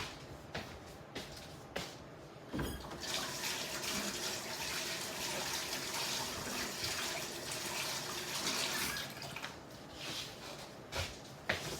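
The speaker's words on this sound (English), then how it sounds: "Let me wash my hands one more time." Hands are rinsed under a running kitchen tap, a steady soft rush of water with faint splashes heard fairly close but quietly, starting and stopping with small clicks.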